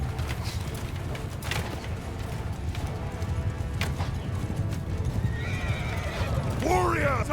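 Horses in the Mount & Blade II Bannerlord battle game gallop with steady, close clip-clop hoofbeats throughout, and a loud neighing whinny rises near the end over the surrounding battle din.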